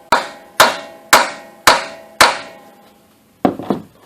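Hammer pounding a tool into a broken quick-disconnect pipe fitting: five sharp metallic strikes at a steady pace, each ringing briefly, then a pause and a final double hit, close and loud.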